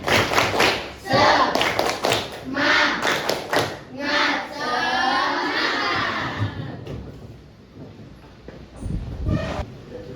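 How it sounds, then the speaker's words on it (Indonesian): A primary school class does a rhythmic spirit clap, bursts of patterned group clapping with voices chanting along, then children's voices and a quieter stretch. "kita tepuk semangat dulu ya. Tepuk semangat"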